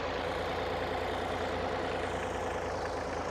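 Ford 4000 tractor engine pulling a plough through wet, soft ground at a match ploughing event, a steady continuous diesel drone with no pauses.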